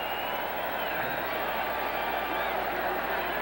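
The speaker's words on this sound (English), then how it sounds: "Mixed reaction here in the crowd as the Florida-Auburn score is given." A large stadium crowd at a 1985 college football game between Miami and Florida State, a continuous broad murmur of many voices rising and falling without clear cheers, heard under a commentator talking.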